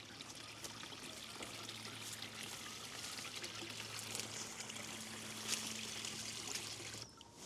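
Water pours steadily through a sluice at a wetland reed bed, a constant soft rushing trickle with a low hum beneath, heard from nearby with no voices.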